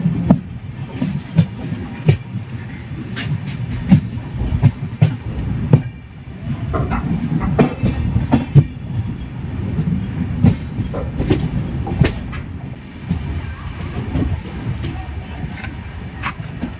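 A Pandian Express train rolls along the rails near Chengalpattu Junction with a steady low rumble, repeated clickety-clack wheel beats and occasional sharp rail clicks, continuous and close throughout.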